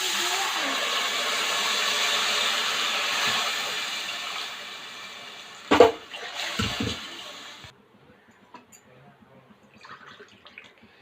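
Water pours steadily into a cooking pot for parboiled rice, a loud continuous splashing rush that stops with a few clunks, after which the kitchen falls quiet.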